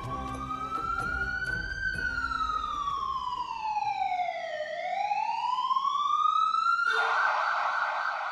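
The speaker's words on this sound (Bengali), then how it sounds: "কোথা থেকে একটা অ্যাম্বুলেন্সের সাইরেন বেজে ওঠে।" Ambulance siren used as a sound effect in a dramatized audio story, one loud wailing tone sweeping slowly up and down, ending in a harsher burst, with no talk over it.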